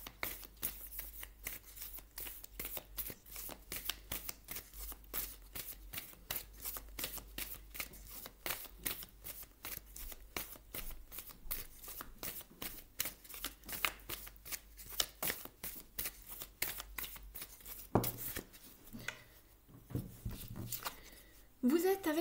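Oracle cards are shuffled for a tarot-style reading in a dense, steady run of rapid riffling flicks that lasts almost the whole stretch, and a few quieter handling sounds follow at the end.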